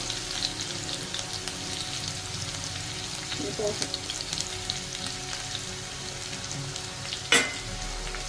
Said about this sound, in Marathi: याला मस्त असं फ्राय होऊन द्यायचं आपल्याला